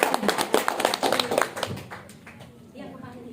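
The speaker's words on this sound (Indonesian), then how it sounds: "Tepuk tangan dong buat Bu Mika." A small audience claps briefly for a woman about to give a testimonial, several quick claps over talking voices that taper off within a couple of seconds.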